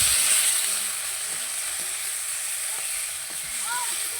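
Pre-fried prawns hit a hot kadai of spiced masala for a prawn malai curry, giving a steady, close sizzling hiss that holds through the moment with a slight swell near the end.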